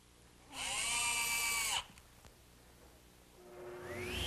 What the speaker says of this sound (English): I'm going to take the piece of hardboard and screw it to the plywood